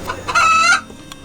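A chicken at a rural restaurant in China's rice terrace country lets out a single loud, close squawking cluck, sharp and brief, followed by quiet.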